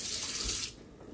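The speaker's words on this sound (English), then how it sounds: "the water is draining through it" Water with rice rushes down through a sink strainer, a close hissing wash that cuts off abruptly partway through to leave a faint trickle.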